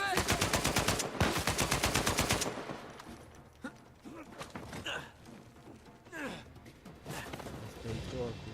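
Rapid bursts of gunfire from the Uncharted 4 video game, a fast automatic rattle for the first two seconds, then sparser shots and scuffling movement at lower level.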